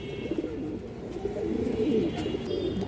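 Pigeons kept for sale coo in low, throaty rolling calls, several birds overlapping at close range against a soft background murmur.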